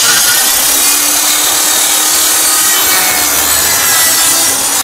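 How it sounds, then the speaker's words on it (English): A saw cuts through a wood piece on a miter sled, a loud, continuous rasping cut that holds steady for about five seconds before stopping abruptly. "First, I'm going to cut one piece."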